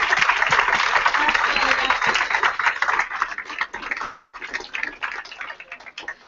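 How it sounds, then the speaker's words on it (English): Dense, steady applause from an audience at an employee awards ceremony, filling the room for several seconds, briefly dipping near the end before the clapping picks up again. "Let's everyone give these people a big round of applause."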